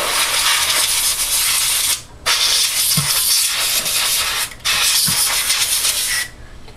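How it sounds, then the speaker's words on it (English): Compressed air sprayed in long hissing bursts into the three bottom covers of a Nintendo GameCube, three sustained blasts separated by short pauses, loud and close. "And spray them out."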